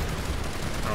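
A turret in the Planetside 2 video game fires a dense, continuous burst of rapid gunfire that fills the whole short moment.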